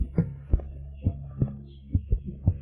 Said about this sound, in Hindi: दिल की धड़कन इतनी तेज।